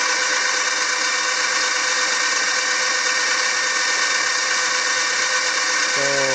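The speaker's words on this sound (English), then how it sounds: "Just a little bit of throttle and it gets stuck." A Sur Ron Light Bee electric bike with a stuck throttle spins its raised rear wheel, making a continuous loud, even motor whine with no letup, and a brief tonal squeal enters at the very end.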